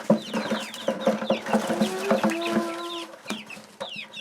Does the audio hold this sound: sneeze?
no